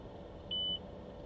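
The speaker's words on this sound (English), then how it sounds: "There's a beep, something happened." Car radio emits a single short, clean electronic beep as a station preset button is held, alone over a faint steady background hum.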